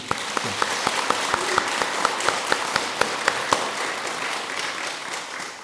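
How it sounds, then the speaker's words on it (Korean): An audience at a Buddhist dharma talk bursts into applause, a broad, steady clatter of many hands with a few sharper individual claps standing out, moderately loud and sustained for several seconds without speech. "일단 1차 박수 한번 치고."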